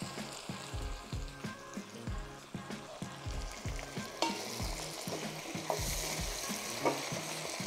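Garlic and onion frying in olive oil crackle steadily up close, broken by repeated scraping strokes of a utensil stirring the pan, and the sizzle grows brighter in the last few seconds.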